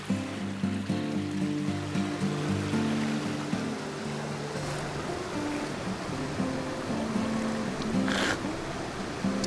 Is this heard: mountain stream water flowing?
yes